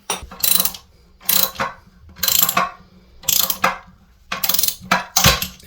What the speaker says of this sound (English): put a wrench on there, and tighten it until it snaps off